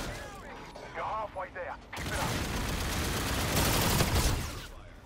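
Rapid automatic fire from an X-EON assault rifle in a first-person shooter game, a dense loud burst lasting a few seconds after a short stretch of game effects and muffled voice.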